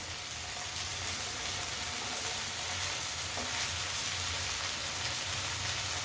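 Anchovies fry on a hot tawa, giving a steady dense sizzle and crackle like rain on a surface that stays loud and close the whole time.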